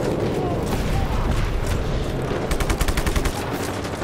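Gunfire rattles in the video game Just Cause 3, with rapid bursts and automatic shots aimed at the player, heard loud and continuous under a muffled game soundscape.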